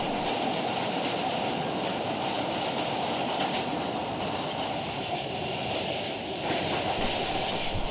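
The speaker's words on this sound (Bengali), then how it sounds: "আমাদের ট্রেনটি মোটামুটি 75 কিলোমিটার স্পিড ফিক্স রেখে সামনে আগাচ্ছে" The Burimari Express, on the Dhaka to Santahar run, rolling at about 75 km/h makes a steady, dense rumble of wheels and carriages, continuous and fairly close throughout.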